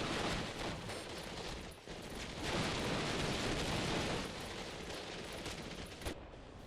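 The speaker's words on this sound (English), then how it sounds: "The Gepards are also moving forward again and open up with some serious fire" Gepard anti-aircraft guns advancing in the Steel Division: Normandy 44 video game fire heavily, a dense, continuous roar of rapid gunfire and blasts that fills the scene at moderate level throughout.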